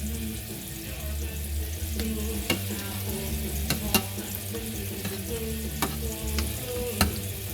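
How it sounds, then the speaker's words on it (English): A potato masher works through cooked potatoes in a pot, giving soft, squelchy pressing sounds and irregular sharp clicks of metal against the pot, with a steady low hum beneath. "One fancy potato masher. Let's start mashing."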